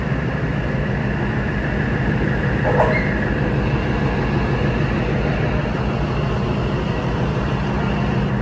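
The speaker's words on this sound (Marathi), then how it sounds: "आता गाडी पोहोचलेली आहे न्यू लोणीला" Passenger train on the Beed to Ahilyanagar line in Maharashtra, heard from on board as it nears New Loni station: a loud, continuous close rumble and rail clatter that runs unbroken throughout.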